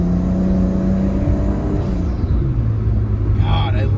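A Nissan Skyline GTS-T with an RB engine revs, its loud, close drone climbing and shifting in pitch as the turbo adds a whooshing whir near the end.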